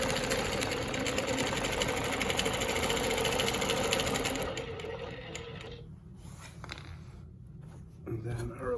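A longarm quilting machine stitching with rulers hums and rattles steadily for several seconds, then stops. Quieter handling noise and a faint voice follow.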